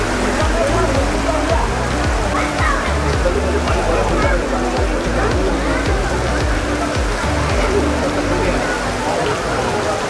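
Steady heavy rain pours down at Hanuman Dhoka in Kathmandu, Nepal, with dense patter and splashing on surfaces and a constant wash of water noise.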